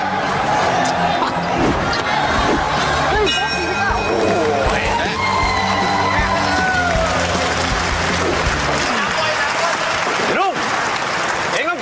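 Loud, dense crowd roar and cheering at a Muay Thai boxing match, continuous throughout with clanging and ringing tones mixed in, voices shouting over the din.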